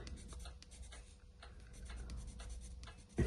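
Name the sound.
colored pencil colouring on paper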